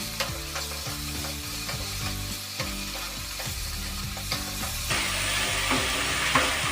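Spice paste with four chopped green chillies sizzles steadily in a pan for a Bengali shukto, with rhythmic scraping stirs over a continuous frying hiss that grows louder.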